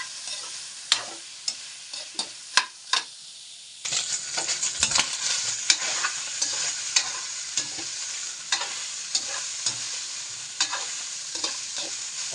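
Boiled pork is browned in a pan for afritada, with a steady sizzle and frying hiss running throughout and a series of sharp clinks and scrapes as it is stirred; after a few seconds the sizzle grows louder and denser.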